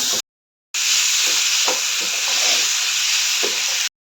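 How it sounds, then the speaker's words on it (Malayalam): Tomatoes sautéing in a hot pan for shakshuka, a steady hissing sizzle with a few soft stirring scrapes, close and continuous between brief silent cuts. "ഇനി നല്ലപോലെ വഴറ്റാം"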